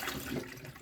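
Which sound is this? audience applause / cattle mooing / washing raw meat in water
washing raw meat in water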